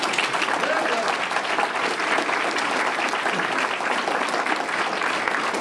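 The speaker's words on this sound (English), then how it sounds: "Thank them with your applause for this piano and this sound system right here in Lititz." Audience applause fills a live concert room in Lititz after a boogie-woogie piano set, a steady, loud wash of clapping that holds evenly throughout.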